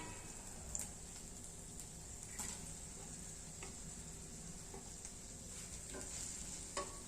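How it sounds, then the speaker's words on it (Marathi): Paneer pieces are stirred in a pan for dry chilli paneer, giving a soft, steady sizzle with a few sharp spatula taps, quiet and without talking. "छान मिक्स करून घ्यायचं."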